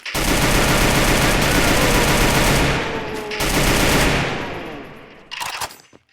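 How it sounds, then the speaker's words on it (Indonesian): Sustained loud automatic gunfire in a shooting video game, a dense continuous rattle of rounds that briefly breaks off, resumes, then fades into a short final burst, with faint commentary mixed in. "Yuda headshot Fairy Killer menggunakan Bareta"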